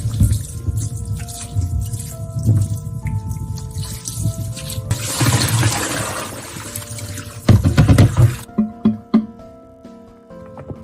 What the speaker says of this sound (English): After thoroughly washing the plums